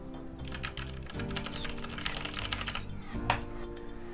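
Typing on a Logitech G512 Carbon mechanical keyboard with GX Brown switches, a steady run of close, crisp key clacks with no talk over it.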